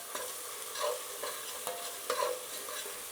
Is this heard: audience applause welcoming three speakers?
no